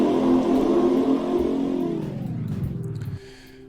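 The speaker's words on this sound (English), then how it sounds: "then we can add an echo to it, and instantly we have loads of car noises at the same time" Video game racing car engines rev and whir together with an added echo, layering into a dense, loud roar that slowly drops in pitch before cutting off sharply near the end, with no talking.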